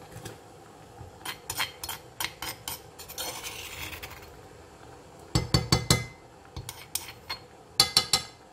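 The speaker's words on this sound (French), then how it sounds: "Je vais continuer de touiller" A spoon scrapes and clinks in a pot while stirring about 5 cm of grated ginger and three garlic cloves, making irregular close metallic taps and rasping strokes, with denser bursts of scraping.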